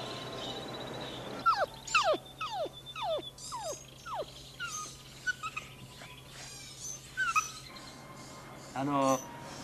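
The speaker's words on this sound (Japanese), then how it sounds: "これはポメラニアンという犬です" A Pomeranian dog gives a run of high, sharp whimpers and yips in quick bursts, close and fairly soft, with pauses between, over a low steady hum.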